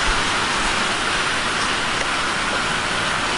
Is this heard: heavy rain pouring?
yes